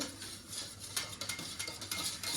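A utensil stirs cake batter in a bowl, flavored with cardamom powder, making soft close scraping and clinking in an irregular rhythm, fairly quiet, with no voices.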